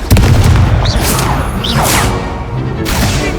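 Confringo spell blasts in the Hogwarts Legacy video game: loud booming impacts with whooshing swishes, two or three bursts in quick succession amid dense game combat noise.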